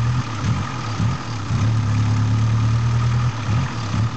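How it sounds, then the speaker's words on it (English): A 1991 VW GTI 16-valve engine idling, with a steady low rumble that swells in brief surges as the throttle is touched, the engine faltering and hesitating rather than revving cleanly. "Startup, idle's fine, but as soon as I touch the throttle,"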